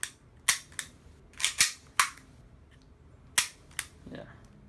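An H&K USP Tactical full-size CO2 gas blowback airsoft pistol fires about eight sharp, snappy shots at an uneven pace, some in quick pairs, loud and close over a quiet room with a faint trailing rustle.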